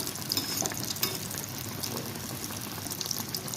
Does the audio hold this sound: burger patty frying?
yes